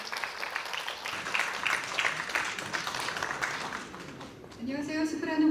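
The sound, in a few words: audience applause welcoming a soprano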